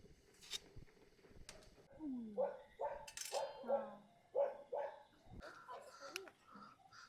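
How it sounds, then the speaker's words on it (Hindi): A dog barks repeatedly at a distance toward a village near a forest campsite, a series of short yips and barks spread across several seconds, mixed with voices talking nearby. "देखो गांव की तरफ जो ना कुत्ता भी भौंक रहा है उधर"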